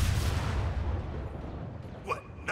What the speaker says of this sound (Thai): ระเบิดพร้อมแล้วถอยไ